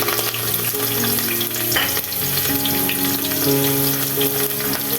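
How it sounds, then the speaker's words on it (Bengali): Chopped onions hit hot oil for a beef curry and fry in a steady, loud sizzle with stirring scrapes throughout, no voices. "এখন দিয়ে দিচ্ছি পেঁয়াজ কুচি"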